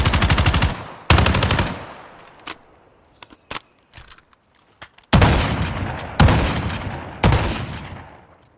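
Machine-gun fire in Call of Duty Warzone on the original Verdansk map: loud, close bursts of rapid automatic shots with a few short single cracks between them, then three more heavy bursts that ring out briefly.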